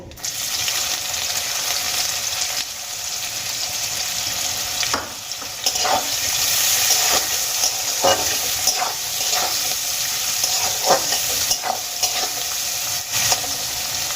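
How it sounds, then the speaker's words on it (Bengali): Chopped onions go into hot oil seasoned with panch phoron and fry with a steady close sizzle, broken by repeated scraping strokes of a spatula against the pan as they are stirred, with no talking. "কুচানো পেঁয়াজগুলো আমি এই তেলের মধ্যে দিয়ে দেব"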